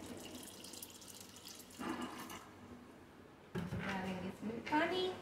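Water runs and splashes into a bowl of semolina and yogurt being mixed for batter, coming in two short bursts with quieter gaps between, while someone talks.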